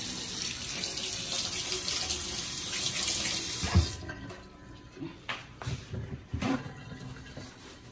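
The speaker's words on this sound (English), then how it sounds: "I'm gonna rinse my hand off." A kitchen tap runs steadily while a hand is rinsed under it, a loud even stream that cuts off partway, leaving quieter splashes, drips and handling clatter.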